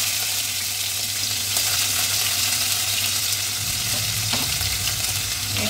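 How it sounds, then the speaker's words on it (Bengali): Chopped ginger frying in a pan of mustard oil with whole spices, a loud, dense and continuous sizzle broken by occasional scraping stirs, close up with no talk. "এবার এটাকে আদাটাকে ভালোভাবে একটু ভেজে নেব।"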